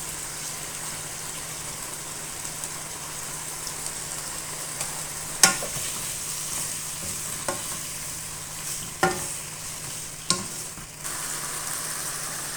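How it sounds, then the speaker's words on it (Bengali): Pumpkin greens fry in oil with potato and eggplant, giving a steady close sizzle broken by a few sharp stirring scrapes against the pan, with no speech. "ভালো করে তেলের সাথে একটু ভেজে নিব। ফোড়নের সাথে আলু বেগুন। এখন দিয়ে দিলাম আমি কুমড়ো শাক"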